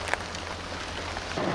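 Heavy torrential rain falling in woodland, a steady broadband wash of drops on leaves and a raincoat, continuous and close with no let-up.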